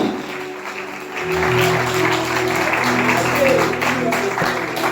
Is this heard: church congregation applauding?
yes